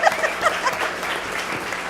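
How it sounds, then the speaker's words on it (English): An audience at a school board meeting claps for a teacher, a brief burst of dense, close applause with a little chuckling mixed in. "Give it up for Mrs. Canfield!"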